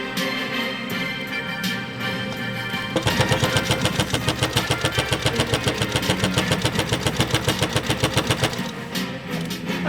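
A 1944 Free Westinghouse sewing machine, hand started by its balance wheel, whirs up and runs at a steady fast stitching rhythm, a loud close mechanical chatter that slows near the end.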